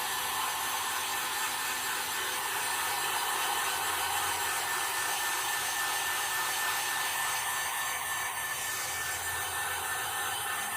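Heat gun heat-setting paint on a fishing lure, a steady roaring rush of hot air that holds constant for about ten seconds without talk.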